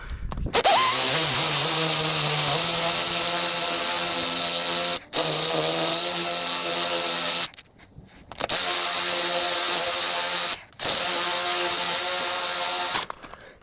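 A DeWalt power drill with a 16mm bit bores through metal for an antenna bracket, a loud steady whine running in three long bursts with short pauses between, close and alone.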